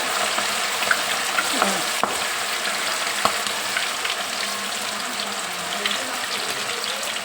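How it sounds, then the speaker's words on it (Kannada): Kebabs frying in well-heated oil, a steady dense sizzle and crackle throughout with a few sharper pops and faint clinks, close and fairly loud with no talking. "ಎಣ್ಣೆ ಚೆನ್ನಾಗಿ ಕಾಯಿದ ಮೇಲೆ ಕಬಾಬ್ ಹಾಕ್ಬೇಕು"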